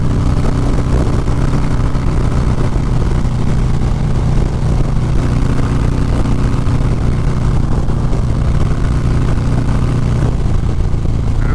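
A 2020 Harley-Davidson motorcycle cruises along, its engine giving a loud, steady low drone with constant wind rush for the whole stretch.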